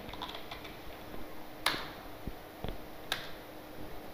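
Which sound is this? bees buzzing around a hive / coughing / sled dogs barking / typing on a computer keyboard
typing on a computer keyboard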